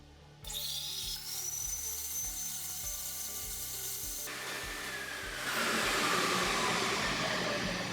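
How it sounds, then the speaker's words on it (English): An Ampak Thrifty Pack shrink wrap machine starts up and heats its film with a steady whirring hiss, a rhythmic low thumping beneath, and a louder broadband roar building toward the end, heard close with no talking. "when I depress the cycle button, the film will heat, and we'll see how far down our film droops"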